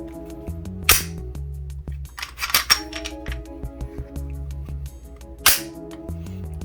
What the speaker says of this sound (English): slide release, works on both sides.